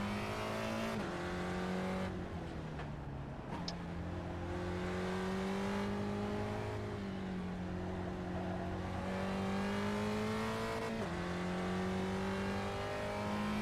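A Spec Racer Ford engine in the iRacing sim drones at steady revs, then drops pitch in several distinct stepped downshifts, close and continuous, with faint tyre noise underneath.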